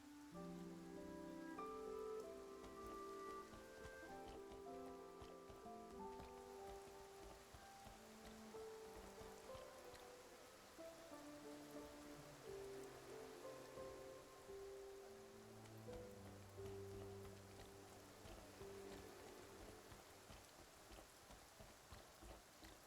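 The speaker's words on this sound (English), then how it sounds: "Rain." Soft, steady rain patters on surfaces in the video game Infinity Nikki, faint and continuous, with gentle melodic music playing underneath.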